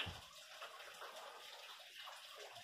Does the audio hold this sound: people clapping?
no